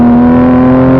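A Toyota Supra MK5 engine under hard acceleration gives a loud, close, sustained tone with a strong steady pitch and a dense rumble beneath, with no talk over it.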